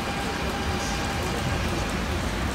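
Steady rain falls outdoors in autumn in France, a dense even hiss of drops on surfaces that fills the whole moment at a moderate level, with no voices over it.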